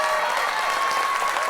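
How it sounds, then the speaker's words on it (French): A television studio audience breaks into sustained applause, a dense, even wash of clapping heard on its own without talk. "On l'applaudit bien fort."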